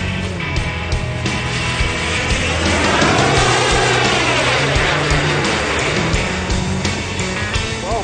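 A large Airworld kit model jet airplane flies past at a jet event, its turbine roaring loudly and continuously. The pitch sweeps up and then down as it passes.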